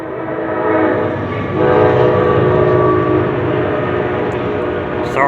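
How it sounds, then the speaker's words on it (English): Loud rumble of a train passing through a small town, with rolling rail noise and horn-like tonal drone swelling and holding close by, no speech. "Sorry about the train noise, guys."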